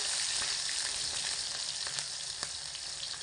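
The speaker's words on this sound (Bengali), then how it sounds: "এগুলোকে একটু হালকা ভাজা ভাজা করে নিচ্ছি মিডিয়াম আঁচে রেখে" Chopped tomato and green chillies fry lightly over medium heat, a soft continuous sizzle with occasional clicks of a spoon stirring the pan, steady and without voices.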